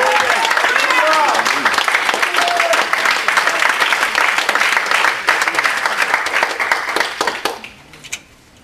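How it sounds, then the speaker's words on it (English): Church congregation clapping their hands in praise, a dense, loud, continuous roar of applause lasting several seconds, with voices calling out underneath before it fades away at the end. "Clap your hands and praise him."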